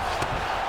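A steady crowd roar fills the arena in a UFC 5 fight between GSP and Usman, a dense, continuous cheering wash with no break.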